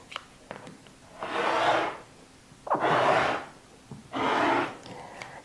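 A rotary cutter slices quilt fabric along a ruler in three separate smooth, raspy strokes about a second long each. Quieter handling knocks and taps come between the cuts.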